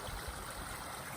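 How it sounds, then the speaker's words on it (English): Water rushes quickly through a widened roadside ditch cleared of weeds after heavy rain, a faint, steady, close trickling flow with no voices. "So I got a lot more water flowing here"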